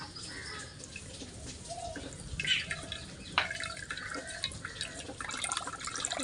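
Cold water is poured over chhena (cottage cheese) to wash it, making close splashing and dribbling with a few clinks of a bowl or utensil, fairly quiet and with no talk.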